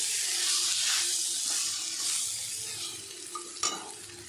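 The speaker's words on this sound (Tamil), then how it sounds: "ப்ரான் பெப்பர் ஃப்ரைக்கு பெப்பரை போட்டு ஒரு 2-3 நிமிஷம் கழிச்சு எடுத்துடலாம். எல்லாம் கிண்டி விடுங்க." Prawn pepper fry hisses and sizzles loudly in a pan while it is stirred, ending with a sharp clink of the spoon against the metal.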